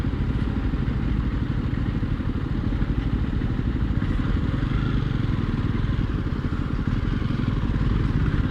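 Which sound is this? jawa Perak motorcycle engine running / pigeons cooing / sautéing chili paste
jawa Perak motorcycle engine running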